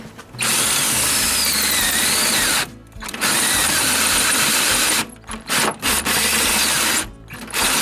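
A cordless power drill whirs loudly and close with a ratcheting, geared grind, running in long bursts with a pause near the middle and several quick stops and restarts toward the end.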